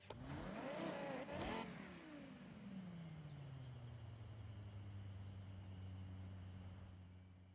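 Audi R8 sports car engine in the Forza Horizon racing game, a loud close roar that revs hard and drops early, then settles into a steady droning idle hum alone, with no talk.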